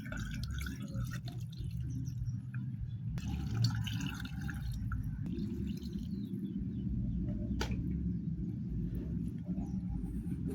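Water is poured into a pot of pineapple peels for boiling, a faint continuous trickle and splash with a low background hum and a few small knocks, no talking.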